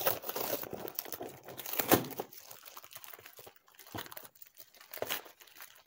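Stickers being peeled off a ring light stand, a crinkly tearing and crumpling of plastic film close by, with a sharp rip near the middle and softer crackles after.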